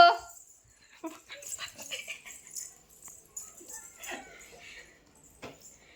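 Small puppy yips and whimpers come in short bursts, mixed with light giggling and scattered voices, fairly faint in a quiet room.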